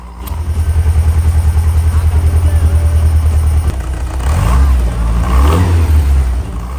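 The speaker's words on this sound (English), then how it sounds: "Now with the car running, we can get the timing done." The engine of a 1982 Series 2 Fiat X1/9, just repaired after a blown head gasket, runs loudly up close with a pulsing idle and then a brief rev, while a person talks over it.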